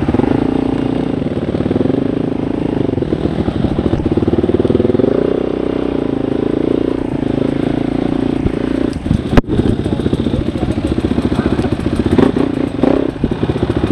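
Motorcycle engine running steadily while riding, a continuous close drone with a sharp knock or thud near the middle, no talk in the clip.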